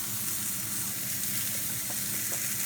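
A Morrisons £5 sirloin steak sizzles in a frying pan with a steady, close crackling hiss. The sound stays even, with faint spatters now and then.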